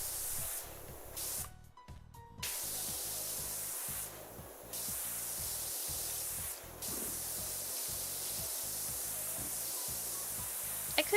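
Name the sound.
pressure washer spraying in the video game PowerWash Simulator 2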